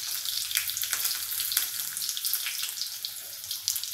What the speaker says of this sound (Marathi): आता मी याच्यामध्ये फोडणीमध्ये हिरव्या मिरच्या घातल्या